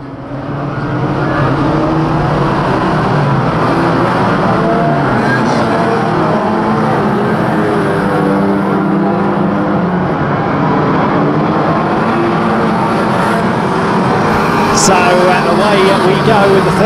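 1300 stock cars racing in a heat at the Kings Lynn oval, a continuous loud roar of several engines droning and revving together for the whole stretch, with a commentator's voice running over it.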